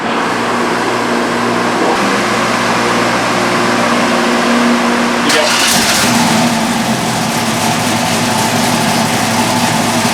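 A built Buick Grand National engine with a solid roller cam, roller rockers and pushrods runs loud on a dyno during break-in. Its rough, steady roar shifts and swells about halfway through as it revs.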